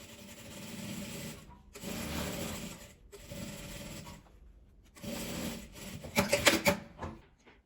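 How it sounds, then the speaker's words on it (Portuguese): A sewing machine topstitches around the flap of a patchwork fabric wallet, running in several short whirring bursts separated by brief pauses, close by and moderately quiet, with a rattling final stretch. "Agora eu vou passar uma costura, um pesponto, só na parte da aba aqui mesmo, dando a volta nela toda."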